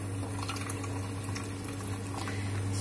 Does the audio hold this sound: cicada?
no